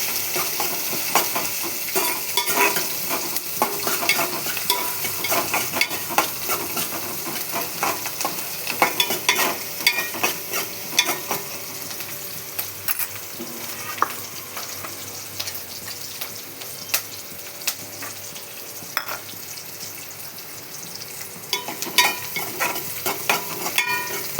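Food fries in a pan until golden while being stirred, a close continuous sizzle layered with scraping stir clatter and scattered utensil taps, with no talking.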